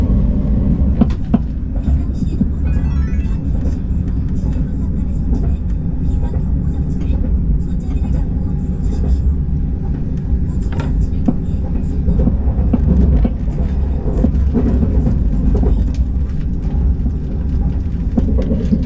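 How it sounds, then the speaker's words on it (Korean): A KTX train runs on the Gyeongbu line near Daejeon, a loud continuous rumble with rhythmic clicks of wheels over rail joints, heard from on board, steady for the whole stretch with no talk. "경부선으로 선로를 갈아탄 열차는 고속선을 옆에 끼고 호남선과 만난 뒤 대전조차장역을 통과합니다."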